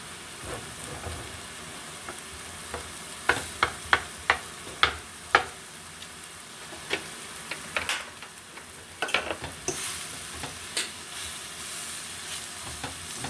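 Cooked yellow vegetable rice is mushed and stirred in a pan, with soft sizzling and scraping plus a run of sharp utensil knocks against the pan midway, close and fairly quiet.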